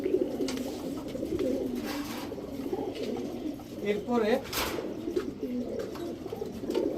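Giribaz high-flyer and racing pigeons coo, with a soft, rolling call rising near the middle, while someone talks over them almost throughout.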